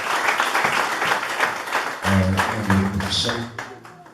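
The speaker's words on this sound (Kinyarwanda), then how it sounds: "Reka twongere dukomere Imana amashyi cyane" Church congregation applauding, a dense continuous wash of clapping that fills the space, with a tonal voice or music line joining in partway and the clapping thinning out toward the end.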